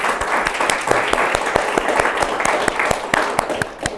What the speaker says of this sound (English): Let's give them a round of applause for being in this space.